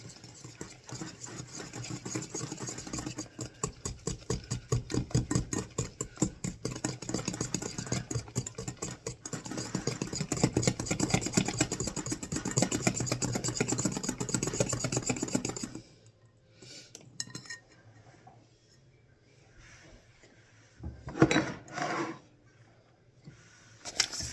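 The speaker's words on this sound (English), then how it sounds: "Now I'm going to go whisk all together." Chocolate chip cookie ingredients whisked together in a bowl give a fast, steady scraping rhythm for about sixteen seconds, then fade into quieter, scattered clinks and rustles.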